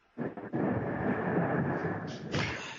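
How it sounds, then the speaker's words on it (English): Thunder cracks and rolls close by during a lightning storm, a sharp onset followed by a loud, sustained rumble lasting a few seconds with a second swell near the end. "That was thunder here for those listening."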